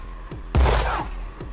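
Gunshot in a video game: a single loud, close shot cracks out about a third of the way in and leaves a short rumbling tail over a low, steady background hum.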